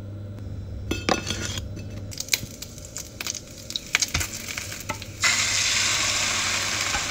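Food sizzles in a small frying pan while breakfast cooks, with stirring and light clinks of a utensil against the pan. A steady close-up hiss swells louder near the end, and no one speaks.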